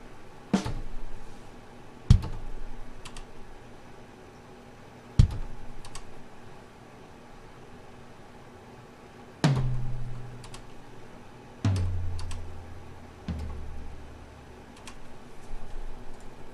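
Computer keyboard arrow keys are pressed now and then while drums are being sequenced, giving single sharp clicks spaced a few seconds apart over quiet background hum.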